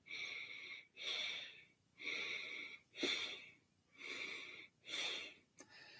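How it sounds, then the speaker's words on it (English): Quick, rhythmic breathing comes with shoulders raised and tensed, six close, raspy, wheezy breaths spaced about a second apart, each rising and falling in a steady pattern with short quiet gaps between. "we're going to breathe through that with quicker breaths and direct the breaths to the tension"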